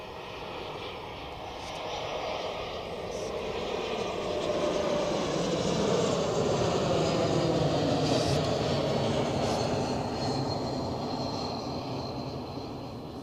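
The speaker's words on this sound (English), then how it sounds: "The first A330 in the background is taxiing already." Airliner engines rumble from an Airbus A330 taxiing at Zurich Airport, a broad steady roar heard from a distance that swells slightly through the middle and then eases, with no voices.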